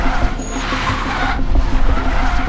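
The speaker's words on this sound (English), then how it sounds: "pull the handbrake, and it just allows you to immediately get the car rotated" Tires on the Hyundai RN24, an Ioniq 5 N-based performance car, squeal loudly and continuously through a handbrake turn, a close, sustained skid over a low drivetrain hum.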